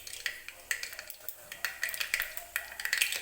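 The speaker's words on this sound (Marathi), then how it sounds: "मोहरी छान तडतडू द्यायची आहे" Mustard seeds spluttering in hot oil for a tempering, a quick irregular run of sharp little pops and crackles up close that grows busier toward the end, with no talking.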